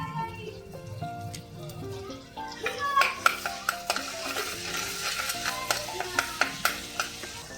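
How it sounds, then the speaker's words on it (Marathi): Ginger garlic paste sizzling in hot oil in a kadhai, stirred with a metal spoon that clinks and scrapes in quick strokes against the pan, fairly quiet and close. "आलं लसणाची पेस्ट घालायची."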